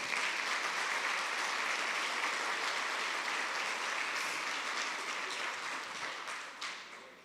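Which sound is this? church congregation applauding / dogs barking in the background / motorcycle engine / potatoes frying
church congregation applauding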